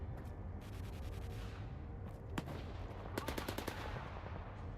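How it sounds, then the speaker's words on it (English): Gunfire in the video game S.T.A.L.K.E.R. 2: Heart of Chornobyl, rapid bursts of automatic shots heard at a distance over steady background noise, repeating through the clip without talk. "somebody's out there shooting"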